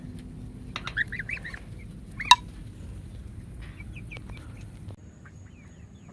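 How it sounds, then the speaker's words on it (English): Barnyard flock of Rhode Island Red chickens, Khaki Campbell ducks and a Toulouse goose gives scattered clucks and brief calls, with one sharp squawk standing out over a steady outdoor background; no voices. "We have 8 Rhode Island red chickens, 2 Khaki Campbell ducks, and a Toulouse goose."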